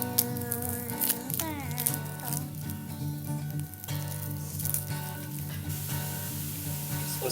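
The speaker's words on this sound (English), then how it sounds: "let's put the meat in so we can keep this chain moving" Meat dropped into a hot pan for meat sauce sizzles steadily, with frying hiss running under sustained tonal music throughout.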